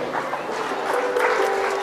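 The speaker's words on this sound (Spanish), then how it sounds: "Que se escuchen los aplausos para estos alumnos que hoy egresan de la educación primaria" Families at a primary school graduation clap for the students, producing a brief burst of moderately loud crowd applause with faint voices underneath.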